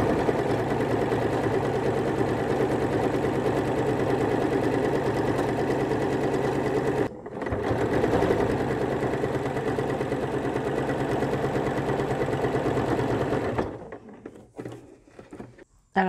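A sewing machine runs steadily while stitching a support seam along a garment facing, a continuous mechanical whir that stops abruptly near the end, with a brief pause partway through.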